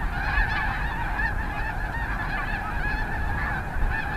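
A dense flock of snow geese honking continuously, many overlapping calls forming a loud, steady chorus with no pauses.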